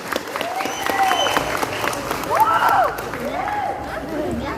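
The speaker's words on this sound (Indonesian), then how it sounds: "Tepuk tangan yang tokoh-tokoh Kubuswe." Audience applause at a Balinese bondres comedy performance in Kubusuih, a steady wash of clapping from a crowd that swells midway, with a performer's voice speaking over it throughout.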